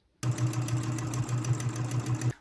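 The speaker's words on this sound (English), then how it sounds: "I'm going to sew around the rest of it with a 1/4 inch seam allowance and stop right here" A sewing machine stitches a 1/4 inch seam around old clothing fabric, running in one steady, loud mechanical burst with a rapid rhythmic chug for about two seconds, close up with no talking.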